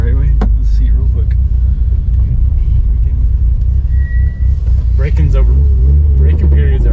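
Mitsubishi Evo with a six-speed and a newly installed downpipe exhaust, its engine producing a loud, continuous low rumble close by while people talk over it.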